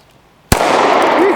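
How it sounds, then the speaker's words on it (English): A handgun fires a single HST hollow point round in a concealed-carry test, a sharp, loud report that cuts through silence and then leaves a long ringing, roomy decay. "let's shoot some hollow points"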